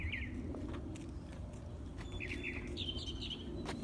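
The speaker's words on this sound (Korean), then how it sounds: "어저 새 소리가 맑어." Small bird singing from the top of a banana tree outside a house in the morning, with a few clear, high chirping phrases heard at a distance over a low rumble of traffic.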